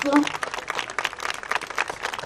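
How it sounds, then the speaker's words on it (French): A crowd applauds Juliette at the Soulac 1900 costume festival, a brief spread of clapping with a person talking over it. "On applaudit Juliette."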